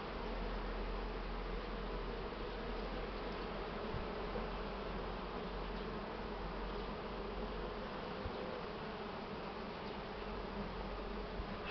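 Honey bees swarm and buzz steadily at an open hive while a beekeeper adds a super to expand the nest; a dense, continuous, close drone with no talk.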